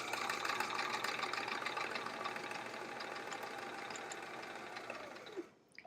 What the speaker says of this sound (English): I'm sewing right along that line.